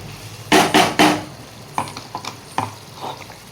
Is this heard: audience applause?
no